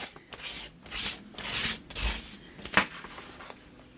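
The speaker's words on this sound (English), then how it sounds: "See how I'm continuing to scrape though? That continuing to scrape is giving me this kind of burnished, worn feel." A tool scrapes across painted collage paper in a series of close, rasping strokes, each a few tenths of a second long, repeating steadily in a quiet room.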